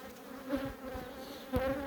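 Honey bees buzz close by in a steady droning hum around a hive during a hive transfer, with a couple of louder passes as individuals fly near.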